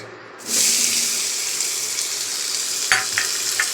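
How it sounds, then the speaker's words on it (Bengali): Chopped onions drop into hot oil and start frying, a sudden loud sizzle that settles into a steady hiss with a few sharp spatters and stirring knocks near the end. "পেঁয়াজটা দিয়ে দিলাম পেঁয়াজটা একটু লাল লাল করে ভেজে নিই"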